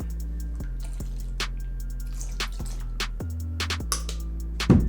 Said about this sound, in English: I'm gonna grab my cleaning solution and just put 2 squirts in the bowl and mix it up.